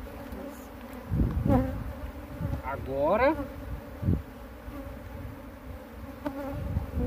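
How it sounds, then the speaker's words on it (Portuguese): Honeybees swarming around a nucleus box during a hive transfer, a thick steady buzz up close with individual bees whining past, while a person speaks briefly. "muita abelha. A rainha já deve estar aqui dentro."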